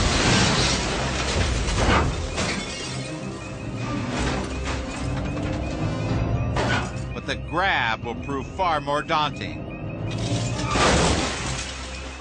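A pickup truck smashes into a gas station storefront, with heavy crashing and shattering glass, grinding metal and falling debris under a narrator's voice and shouting.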